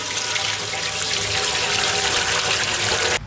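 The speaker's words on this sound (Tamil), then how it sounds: "இப்போ புட்டு செய்கிறதுக்கு தண்ணி சேர்த்து கொதிக்க வச்சிடலாம்." Water pours steadily from a tap into a cooking pot in a village kitchen, a continuous close splashing stream that stops abruptly at the end.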